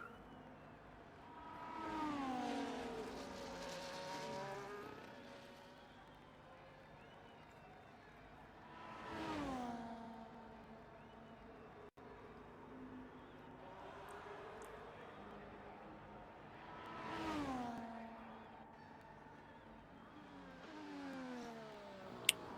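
Racing-game cars, including an Alpine, run on the Las Vegas circuit. Three separate engine pass-bys rise and fall in pitch at intervals, with a steady engine drone between them.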